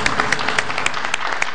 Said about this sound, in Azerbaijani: Bir də alqışlayırıq hər ikinizi.